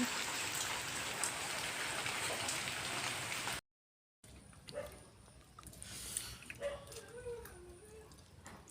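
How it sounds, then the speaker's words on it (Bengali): Heavy rain falls steadily and loudly for several seconds, a dense hiss of drops; after a brief gap, quieter rain continues with faint voices and small household sounds in the background. "বৃষ্টি"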